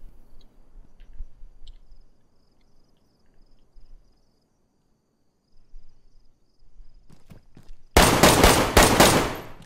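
Gunfire in the video game DayZ: a few faint distant shots over quiet insect-filled ambience, then a loud close burst of rapid shots at the end.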